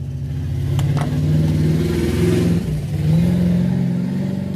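A car engine outside open windows passes with a steady mid-pitched drone that swells and fades as it goes by, fairly loud and close with no talking.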